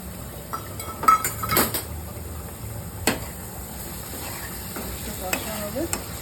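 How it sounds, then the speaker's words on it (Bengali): Spices sautéing in ghee with salt and turmeric sizzle softly in a pan, broken by a few sharp metallic clinks and scrapes of a spoon against the pot, close and without speech. "এটাকে কষাবো"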